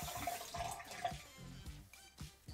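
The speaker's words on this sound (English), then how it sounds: "I'm sorry if like the sound of the water is a bit too much." Water runs from a tap with a splashy gush and small drips, heard faint and close with no talking.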